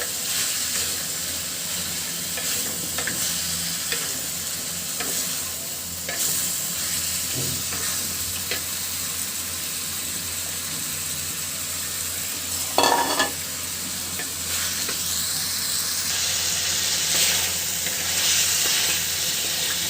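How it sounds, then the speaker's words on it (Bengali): Beef and potatoes fry with spices in a pan, a steady loud sizzle and hiss running throughout with occasional scraping strokes of stirring, no voices. "মশলা এবং আলু মাংস খুব সুন্দর করে মশলার সঙ্গে মিশিয়ে ভালো করে কষিয়ে নিব।"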